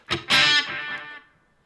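Guitar notes fed through an Echorec-style echo unit running 360 ms and 545 ms delays together; a couple of loud plucked attacks are followed by a distorted, smeared tail of repeats that fades out over about a second.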